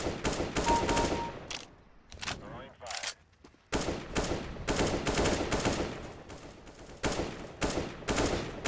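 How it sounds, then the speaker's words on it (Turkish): Rapid bursts of automatic rifle fire and single shots in a Counter-Strike: Global Offensive match, loud and close, with brief pauses between volleys and a player talking over parts of it. "Arkamızdan adam vuruyor."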